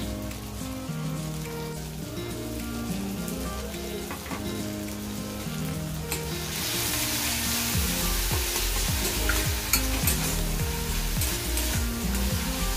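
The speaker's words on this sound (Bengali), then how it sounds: "লবণ, পেঁয়াজ আর টমেটো দিয়ে আর আদা রসুন পেস্ট দিয়ে দিলাম, একটু ভালো করে কষিয়ে নেব।" Onion, tomato, salt and ginger-garlic paste sautéing in a hot oiled pan, a steady crackling sizzle that grows louder and brighter midway, with occasional stirring scrapes.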